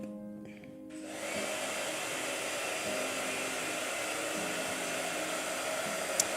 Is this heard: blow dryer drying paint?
yes